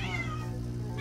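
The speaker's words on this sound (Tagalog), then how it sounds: "May pusa." Cat meowing once, a single close, drawn-out call that fades across the whole second.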